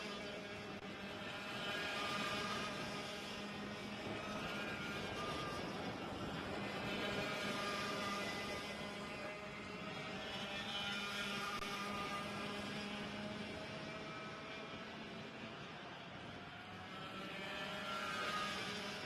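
Racing kart engines at a ROK senior kart race, a continuous high buzzing drone of several karts that swells and fades as they pass, heard at a distance.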